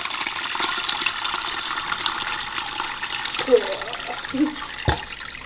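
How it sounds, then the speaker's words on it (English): Lemon-curdled milk curds and whey pour into a colander set in a pot, a steady watery gush with a few splashy bumps near the end, close up and without talk. "now we're gonna pour it into our colander"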